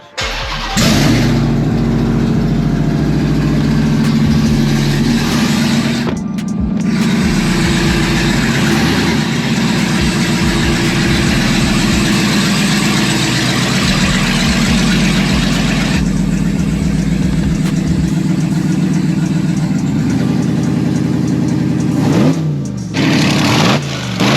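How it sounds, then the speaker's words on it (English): A Dodge Ram TRX truck with a cat delete and fully straight-piped headers starts and idles, a loud, raw, rumbling exhaust drone held close and steady, with a few revs near the start and end. "I'm gonna have to pull my truck out, and it's just straight headers, so we'll see how that sounds."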